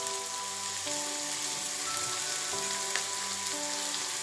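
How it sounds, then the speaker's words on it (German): Onion, bell pepper, garlic and a chili pod frying in a pan, giving a steady, soft sizzle with faint crackles throughout and no talking. "Das lasse ich jetzt schön anbrutzeln."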